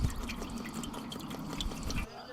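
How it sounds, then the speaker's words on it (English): Water poured into a pan set underneath a Texas-style beef brisket on a smoker, a short close splashing trickle with a few drips, ending abruptly. "what I like to do is I like to add a little bit of water in the pan underneath"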